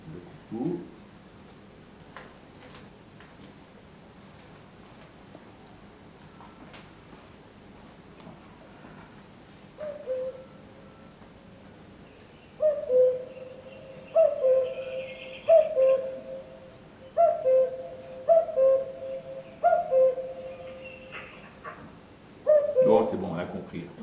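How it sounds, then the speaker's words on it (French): A played-back recording of a cuckoo gives repeated two-note calls, about six in a steady rhythm, clearly audible after a stretch of quiet room sound with faint voices and a few isolated earlier notes. "je vais vous faire écouter le coucou."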